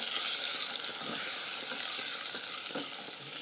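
Tomatoes fry in garlic and olive oil in a pan, a continuous bright sizzle with soft spatula stirring scrapes underneath, steady and close with no talking.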